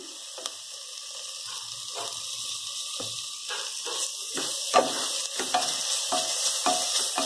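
Veg pulao ingredients with homemade ginger-garlic paste fry and get stirred in a pan: a steady hiss of sizzling oil runs throughout, broken by frequent scraping and clinking strokes of the spoon against the pan, close and moderately loud.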